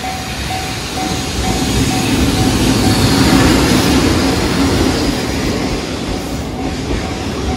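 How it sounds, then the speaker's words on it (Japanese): A freight train carrying household garbage rumbles past close by at a level crossing near Musashi-Kosugi, Japan, with a steady, loud roar of rolling wagons and wheel noise, while a crossing bell rings faintly throughout. "貨物列車が来るみたいですね"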